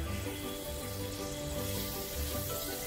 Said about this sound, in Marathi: आता याच पॅनमध्ये आपण तेल घ्यायचं आहे, थोडंसंच तेल लागणार आहे, खोबऱ्याला पण तेल असतं। कढीपत्ता टाकायचा आहे